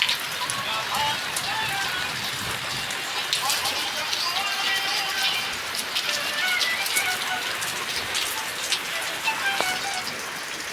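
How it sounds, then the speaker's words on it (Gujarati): Rain falling during summer, a dense steady hiss of drops pattering on surfaces, close and continuous, with faint bird calls and occasional voices in the background. "વરસાદ ચાલુ થઈ ગયો છે."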